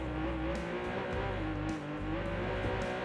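A Lamborghini engine in Watch Dogs 2 revs hard and continuously at close range, a loud throaty roar with rising and falling pitch across a few seconds, alone without speech.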